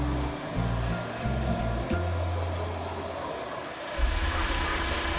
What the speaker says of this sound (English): This golden retriever was really enjoying its grooming because they were using a vacuum cleaner too